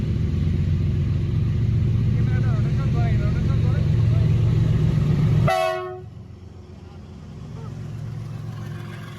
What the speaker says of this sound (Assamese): ইয়াত চাব পাৰে ট্ৰেইনখন।